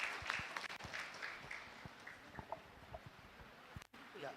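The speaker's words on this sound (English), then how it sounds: "please warm round of applause for the ma'am" A conference audience applauds a guest speaker at the close of a session, with a faint, distant spatter of scattered claps running steadily throughout.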